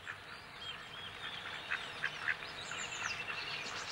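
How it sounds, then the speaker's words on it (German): Tamed wild ducks on a decoy pond, used to lure migrating birds, give scattered soft quacks and calls at a distance over a steady outdoor background. "Durch gezähmte Wildenten angelockt, unterbrechen die Zugvögel hier ihre Reise"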